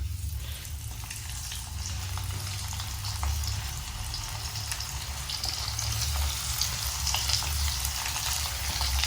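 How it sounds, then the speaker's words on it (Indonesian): Deboned salted fish frying in hot oil, a steady dense sizzle and crackle running without pause throughout, close by with no talking. "Ikan asin yang sudah dipisahkan dari tulang-tulangnya siap saya goreng."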